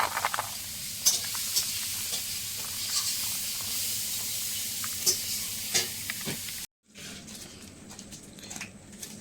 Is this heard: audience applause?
no